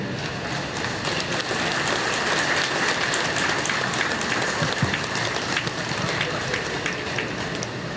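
A live audience applauds steadily at a stage event, a dense and continuous wash of clapping that holds at an even level from start to finish.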